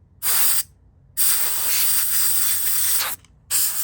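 Air blown through an airbrush with the needle reinserted to clear a clog: three loud, close hissing bursts of different lengths with short pauses between, no talking.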